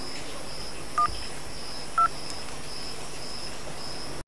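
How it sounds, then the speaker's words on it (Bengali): Phone number dialed on a keypad, two short clear electronic keypress tones about a second apart over a steady faint background hum, with no talk. "তাহলে বাঁধনকে একটা ফোন করেই ফেলি।"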